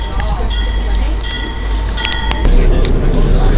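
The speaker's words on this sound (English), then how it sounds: "Here comes the MBTA commuter train arriving at Attleburg train station to take me to Boston Buck Bay station" An MBTA commuter train pulls into Attleboro station, a loud steady rumble and roar of rail cars with high tonal squeals and several sharp metallic clanks near the end.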